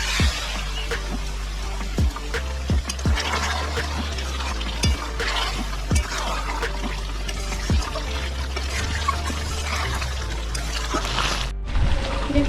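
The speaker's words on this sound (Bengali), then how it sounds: "সামান্য একটু জল দেবো।" A little water poured into chicken kosha with potatoes cooking in a pan, a continuous liquid trickle and bubbling over a low hum, punctuated by regular spoon knocks against the pan.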